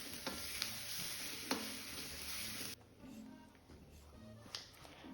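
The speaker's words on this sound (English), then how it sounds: "Fry until golden color and add 1 teaspoon of ginger garlic paste." Chopped onions fry with ginger garlic paste in a pan for palak aloo curry, a steady hiss that drops to a quieter, softer sizzle partway through, with occasional stirring clicks.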